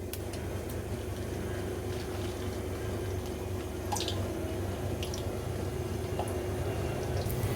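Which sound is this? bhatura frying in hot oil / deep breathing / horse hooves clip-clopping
bhatura frying in hot oil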